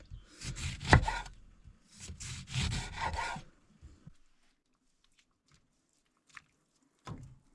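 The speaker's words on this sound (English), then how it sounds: "Need to sharpen my knife." Kitchen knife being sharpened, a few quick close scraping strokes in two bursts, then quiet with faint clicks and a final short scrape.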